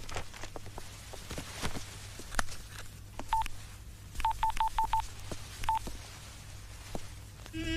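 Telephone keypad dialing tones beep in short bursts, a single tone followed by a quick run of five and then one more, over a faint low background hum with occasional soft knocks and rustles.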